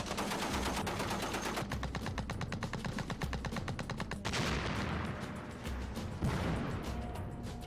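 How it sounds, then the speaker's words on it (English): A tank's machine gun lays down suppressive fire in long, rapid bursts of evenly spaced shots. The chatter is continuous and dense, with brief changes in texture between bursts. "while I'm laying down suppressive fire"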